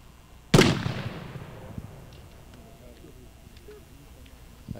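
One Cherryville New Year's shooter firing a black-powder gun outside: a single loud, close boom with a long rumbling decay, followed by quiet and faint background voices.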